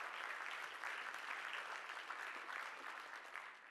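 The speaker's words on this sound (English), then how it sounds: "can we give these guys a round of applause for being up here for us?" Audience applause for the speakers who came up on stage at a church talk, steady dense clapping throughout that tapers slightly toward the end, no voices over it.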